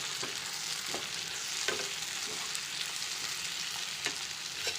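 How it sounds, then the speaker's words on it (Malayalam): Mixed vegetables for a vegetable curry sauté in a pan, giving a soft, steady sizzle broken by occasional light clicks and scrapes of stirring, fairly quiet, with no talking. "ഇപ്പോൾ നമ്മുടെ സബ്ജിയെല്ലാം നല്ലതുപോലെ ഒന്ന് വഴന്ന് വന്നിട്ടുണ്ട്."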